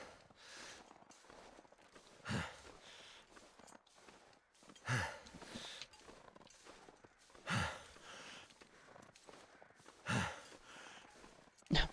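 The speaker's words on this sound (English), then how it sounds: "My guy is struggling, you can hear him breathing." In The Long Dark survival game, a struggling character breathes heavily in the cold with no shelter, drawing slow, regular, fairly faint breaths about every two and a half seconds.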